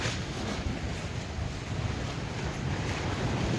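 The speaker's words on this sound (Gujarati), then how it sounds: "આજ બહુ વધારે પવન હતો" Strong wind buffets the microphone in a continuous roar over farmland, loud and close, with no voices.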